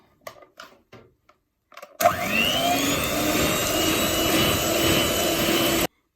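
An electric mixer whips batter for mousse cakes, switching on abruptly after a few soft clinks and running at a steady, loud whir for about four seconds before it cuts off.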